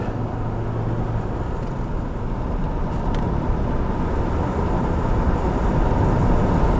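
A 1986 Porsche 928 S with a nearly 5-litre V8 driving along a country road, a steady, continuous engine drone and road rumble from inside the car, even and unbroken with no talk.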